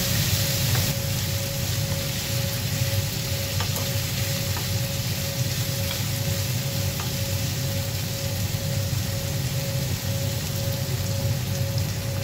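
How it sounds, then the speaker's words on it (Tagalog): Squash pieces hit a hot frying pan for gisang kalabasa with pechay and sizzle steadily, a dense, even crackle with a few faint clinks, close and fairly loud throughout. "At ilalagay na rin natin yung ating kalabasa."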